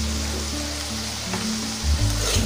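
Tomatoes sauté in a pan for okra sambar, a steady close sizzle with soft stirring that grows a little louder near the end; no talking.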